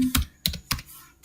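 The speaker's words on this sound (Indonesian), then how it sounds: "Kemudian kita ketikkan function" Keys clack on a computer keyboard while JavaScript code is typed: four crisp, close keystrokes at an uneven pace, with no talking.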